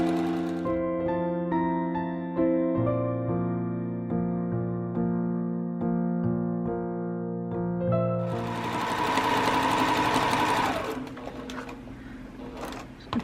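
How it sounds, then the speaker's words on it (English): Sewing machine stitches a chain of quilt fabric pieces for half square triangles, a steady close mechanical whir with a rhythmic hum that stops and restarts between pieces, then a rougher, louder run near the end, no voices. "I will just continue stitching my chain."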